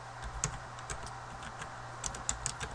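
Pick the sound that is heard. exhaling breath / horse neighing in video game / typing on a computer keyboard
typing on a computer keyboard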